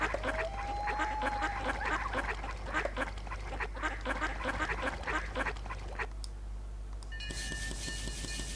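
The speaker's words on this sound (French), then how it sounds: "On a plein de canards." Ducks on a farm in the video game My Farm 2018 quack repeatedly in a busy, overlapping flock chatter that fades out near the end, replaced by a brief electronic game tone.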